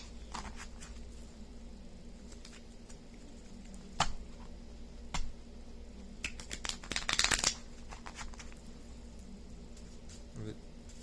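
Tarot cards riffle and slap in quick bursts against a quiet background hum, with a dense flurry of shuffling near the end.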